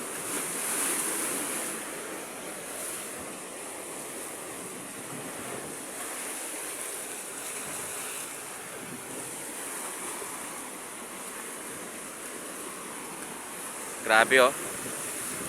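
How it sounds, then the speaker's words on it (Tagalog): Rough sea waves surge and wash steadily against a shore, mixed with wind buffeting the microphone, a continuous moderate roar; a person briefly exclaims near the end. "Maalon ngayon mga Q, pero hindi po siya ganun kalakas."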